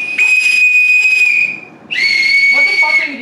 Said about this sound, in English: Blowing whistles